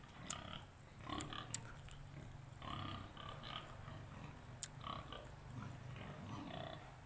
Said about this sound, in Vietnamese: Đây là nhà mà để chăn nuôi lợn nha anh em nhá, nuôi cả lợn nhá, lợn rất to luôn đây.